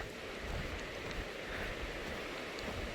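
A stream flows below the Virginia Creeper trail on the Appalachian Trail, a steady, soft broadband rush of water heard from above, continuous and even with no voices.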